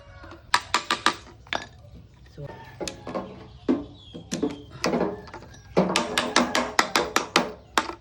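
PVC pipe fittings such as tees, elbows and straight connectors are tapped together with a hammer in a do-it-yourself build, giving a run of sharp close knocks in quick bursts with pauses between.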